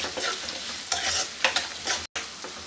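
Turmeric and salt are stirred into a lemon rice base sizzling in hot oil, with steady frying crackle broken by repeated scraping spoon strokes close up.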